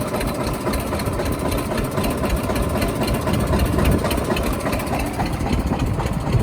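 An Eicher 242 tractor engine runs steadily at normal speed with a spray pump attached in a field, a continuous loud idling rumble with knocking texture and no talk.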